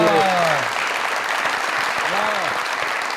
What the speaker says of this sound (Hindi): शाहिद साहब के लिए जोरदार तालियां।